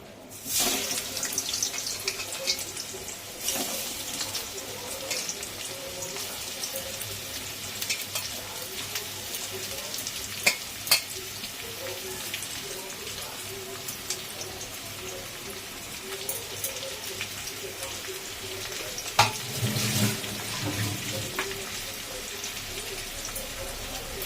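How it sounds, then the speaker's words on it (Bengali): Onions for biryani birista fry in oil with a continuous, moderate crackling hiss, broken by occasional clinks and scrapes of a utensil against the pan. "এই যে তেল দিয়ে দিয়েছি, দিয়ে এবার পেঁয়াজটাকে একটু ভেজে নেবো লাল লাল করে, বেরেস্তা বানাবো"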